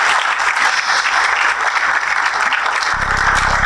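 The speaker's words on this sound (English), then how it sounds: "So can we give him a big round of applause," An audience at the Ghana Compact launch applauds Dr. K.Y. Amoako, dense continuous clapping from a large crowd, loud and sustained for the whole stretch.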